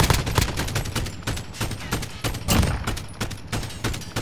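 Rapid gunfire from the video game Call of Duty Modern Warfare crackles in dense bursts and volleys throughout, loud and continuous with no voices over it.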